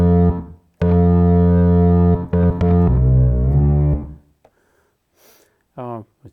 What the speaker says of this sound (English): if I choose the reverb here, I can choose the type. And let me show you how that sounds.